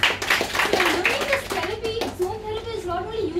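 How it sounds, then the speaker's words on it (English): Corporate communication training participants clap in a room, a scattered burst of hand claps with voices talking over it throughout. "so learning will please have, have a clap"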